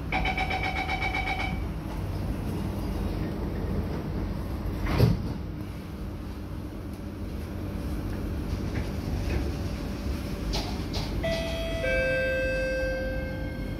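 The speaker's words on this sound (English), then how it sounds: "doors are closing." A Singapore MRT C151C train's door-closing chime sounds at a station, followed by a single thud as the doors shut. A rising traction-motor whine then builds as the train pulls away, all over steady cabin rumble.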